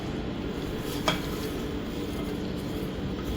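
Mutton being stirred into a dal mixture in a cooking pot, a steady wet sizzling and scraping with one brief clink of the utensil against the pot.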